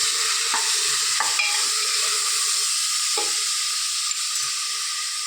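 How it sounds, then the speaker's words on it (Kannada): Onion, ginger, green chilli and tomato sizzle in a pan for a Mangalore-style mutton gravy, with a constant hiss of frying and a few soft stirring scrapes. "ನೀರುಳ್ಳಿ ಫ್ರೈ ಆಗಿದೆ"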